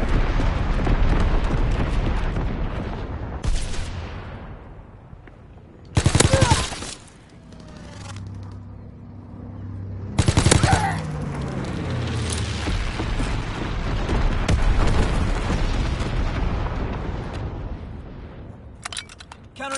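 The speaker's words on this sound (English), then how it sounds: "Sending mortar rounds." Mortar rounds and gunfire in the WW2 Call of Duty video game: heavy booming blasts, dense rapid gunfire and rumbling explosions, with two sharp loud bursts standing out, under intermittent game radio voice lines.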